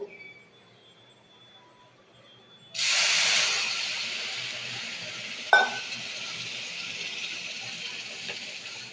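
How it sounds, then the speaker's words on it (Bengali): Water poured into a pan of hot semolina halwa with sugar bursts into a loud, steamy hiss that slowly fades, broken by a single utensil clink partway through, with no voices. "এবার জল ঢেলে দেবো"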